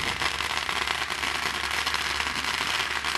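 Fourth of July fireworks in Corvallis crackle and pop continuously, a dense, loud sizzling barrage with no pauses.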